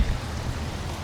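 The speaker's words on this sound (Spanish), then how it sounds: "Oporto nos recibe con lluvia." Rain falling steadily on the streets of Porto, Portugal, a dense even wash of close patter with no gaps or voices.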